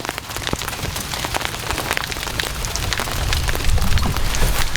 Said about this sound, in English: Yeah, that's hail.